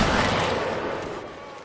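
Massed musket volley in a Napoleonic Wars line-battle game, a dense roar of overlapping gunfire that fills the whole moment and slowly tails off, loud and close.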